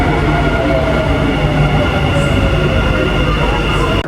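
A metro train rides along, with a steady broadband rumble of wheels and carriage noise and a faint high whine, heard from inside and continuous.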